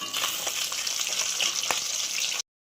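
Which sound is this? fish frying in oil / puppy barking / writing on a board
fish frying in oil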